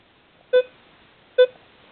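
Two short, bright electronic tones from a Minelab Equinox 800 metal detector signaling a target ID, evenly spaced about a second apart and loud against near silence.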